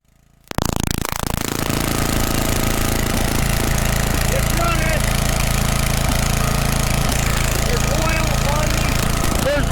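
A small engine on a repair bench cranks and catches after a brief quiet start, then runs steadily and loud at an even idle, with oil burning off the muffler; a voice speaks briefly over the running engine.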